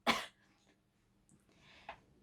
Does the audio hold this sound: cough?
yes